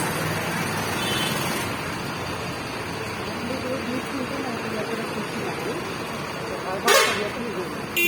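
A sleeper-class passenger bus on the road, with a steady engine and road rumble throughout and a short, loud horn blast near the end; people talk over it.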